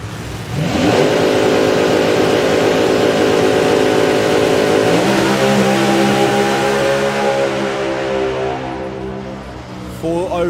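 Drag racing car engine at the FIA Euro Finals 2024, a loud, harsh rumble that rises and holds for several seconds, then settles lower, with crowd and commentary noise mixed in.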